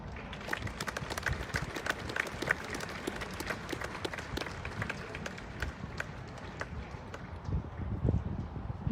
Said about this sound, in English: Ladies and gentlemen, please join me in a round of applause for all of our guests.